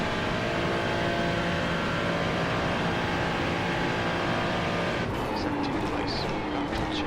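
A Ferrari race car in the iRacing simulator drones steadily at close range, and its engine tone shifts near the end as it goes by, with someone talking over it.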